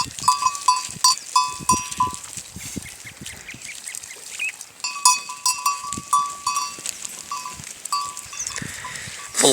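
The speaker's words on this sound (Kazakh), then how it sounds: "Құмда жайылып қалып кеткен қойлар қоңыраудың дауысын естіп сол жаққа барып қайтадан қосылады." A flock of sheep grazing on sand, their neck bells clinking in repeated bright runs amid frequent close bleating from several animals.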